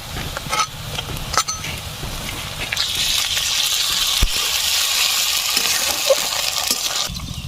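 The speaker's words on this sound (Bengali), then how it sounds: "পেঁয়াজটা ভালো করে ভেজে নিয়েছি। দিয়ে দেবো আদা রসুন বাটা," Fried chopped onions sizzle in a pan as ginger garlic paste goes in for a jackfruit curry, a few clinks and stirring noises giving way to a steady loud sizzle.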